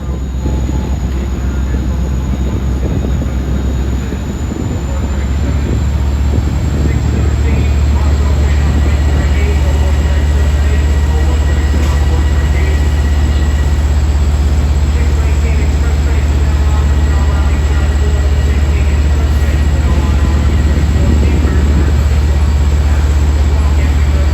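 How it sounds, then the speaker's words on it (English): A train departs Jamaica station, a low steady rumble of rolling cars and wheels on rails that continues throughout in a windy outdoor setting, with faint high squeals and a voice talking over it. "Train 768 departing for Hempstead"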